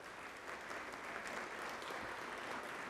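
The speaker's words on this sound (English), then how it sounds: "Let's give them a round of applause as well." Audience at a Sages Over 70 event applauds sign language interpreters with a full, steady round of clapping that holds evenly throughout, without talk.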